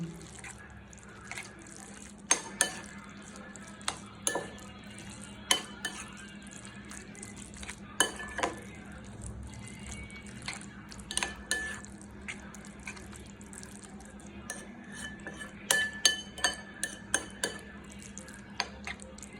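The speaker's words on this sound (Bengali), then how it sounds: "আমি এখন সিদ্ধ করা নুডলসগুলো দিয়ে দিচ্ছি, দিয়ে ভালো করে মিক্সড করে নেব।" Boiled noodles being stirred into ramen in a pot, with scattered clinks and scrapes of a utensil against the pot over a low steady hum, fairly close and quiet.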